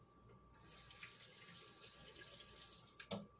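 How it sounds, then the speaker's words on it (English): Water runs from a kitchen tap as something is rinsed under it during smoothie making, a faint steady splashing stream with a brief clink near the end. "I need to rinse this off too."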